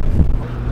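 Strong wind buffets the microphone aboard an Astondoa 677 Coupé yacht moored in Cannes, a low, loud rumble that gusts briefly and then settles.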